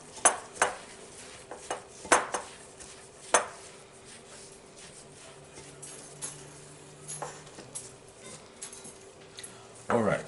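A utensil scrapes and clinks against a bowl while a dry rub for pork shoulder is mixed, with irregular sharp taps and softer stirring sounds, close and fairly quiet.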